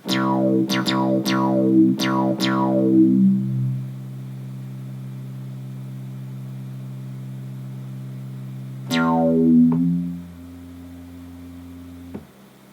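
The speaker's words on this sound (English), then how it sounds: "Listen to that reverb. That's just really good reverb." A run of bright Sylenth software synthesizer stabs rings out into long, washy reverb tails, settling into a held low tone before one more swelling chord.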